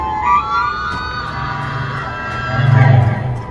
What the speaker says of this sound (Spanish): los infectados detrás de ellos gritaron